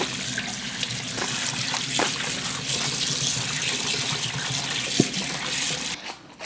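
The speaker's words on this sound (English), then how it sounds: "Rinse this in the cold running water until all this gets cold." Cold tap water runs steadily into a sink as seaweed is rinsed for a Korean seaweed salad, a continuous close splashing stream with a few brief clinks, ending abruptly as the tap is shut off.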